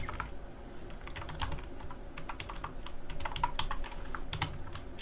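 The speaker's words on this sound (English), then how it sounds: "So I can here write both username and password." A username and password are typed on a computer keyboard, a close, quick run of uneven clicking keystrokes over about five seconds with a faint room hum behind.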